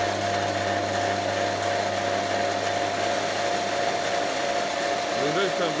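An overloaded three-phase asynchronous motor wired in delta runs nearby with a loud, steady electrical hum and droning whine that continues unbroken throughout.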